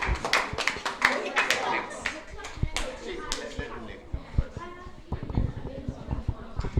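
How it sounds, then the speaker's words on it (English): Scattered hand claps ring out with irregular rhythm, a small group applauding up close, with voices murmuring underneath. "Give him a round of applause."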